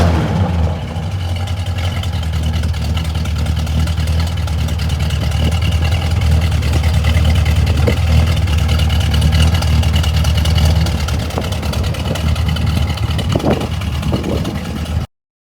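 A 1972 Oldsmobile Cutlass 442 convertible's engine idles loudly and steadily with a deep, rumbling burble, close by, running continuously until an abrupt cutoff at the end.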